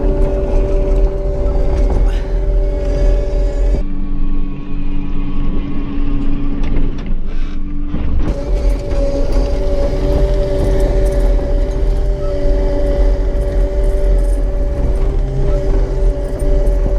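A CAT 285 compact track loader's engine runs at about 2,000 RPM, a loud, steady droning hum with a brief dip in tone midway before it settles back into an even roar.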